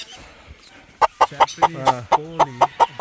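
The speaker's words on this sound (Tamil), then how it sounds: "ஜப்பானிங்க பெண்டம் கோழியாம்மா இதுதான் வந்து இந்த கூட்டுக்குள்ள சிக்கன் சிக்கன்" A Japanese bantam chicken in an enclosure at a bird park in Kandy, Sri Lanka, gives a rapid run of about ten sharp, loud, close clucks in an even rhythm, after a brief murmur of voices.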